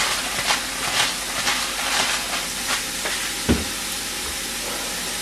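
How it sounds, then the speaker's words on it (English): Garlic and ground meat fry in a pan for picadillo, giving a steady broadband sizzle and hiss with a few soft stirring knocks throughout. "I like adding garlic. Just really cooking it in there."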